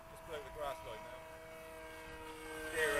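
ZOHD Nano Talon RC model plane flying outdoors, a faint whining propeller and motor drone that varies in pitch, with people talking nearby.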